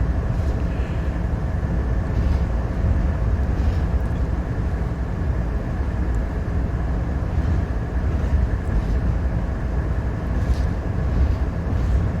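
A freight train of three locomotives hauling thirty empty cars in the Train Sim World 3 video game produces a constant low rumble and drone. The sound is steady and fairly loud, with no talk.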